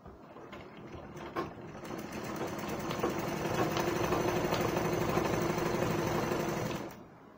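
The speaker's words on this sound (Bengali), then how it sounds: "পুরোটা সেলাই দিয়ে নিতে হবে।" A sewing machine stitches the top of a gown in a steady, fast mechanical whirr that builds to a continuous run and then stops, close and clear with no talk.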